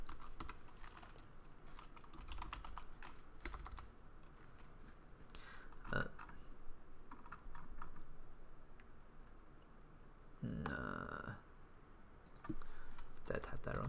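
Clicking on a computer keyboard, with irregular bursts of close key taps and a few sharper clicks, alongside soft background sounds and a person talking.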